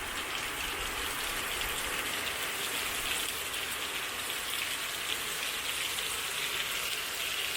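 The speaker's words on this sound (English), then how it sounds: "you can hear the rain again getting stronger." Steady rain pouring down outdoors on a rainy day in the Philippines, a dense continuous patter on surfaces that holds a constant, fairly loud level throughout, with no voices.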